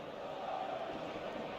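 Stadium crowd in eFootball singing from the stands at an evening match, a steady distant wash of many voices with no clear breaks.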